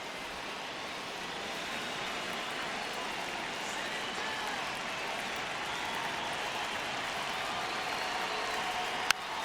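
A virtual ballpark crowd in a Giants vs Diamondbacks baseball simulation keeps up a steady, distant wash of cheering and applause, ending in a brief sharp click.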